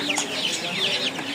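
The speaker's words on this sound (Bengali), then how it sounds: "এই হচ্ছে টাইগার মুরগি, এগুলো বড় সাইজ" A tiger-breed chicken clucks close by at a poultry and pigeon market in Mirpur-1, Dhaka, a short burst of quick warbling calls.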